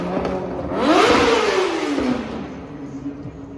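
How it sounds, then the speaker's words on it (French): A motorcycle with no licence plate revs loudly on a New York street, one sharp climbing snarl of the engine that peaks and then winds down over a few seconds, close and unaccompanied by talk. "Vous avez vu le bruit de cette moto?"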